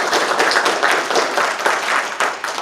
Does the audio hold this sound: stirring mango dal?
no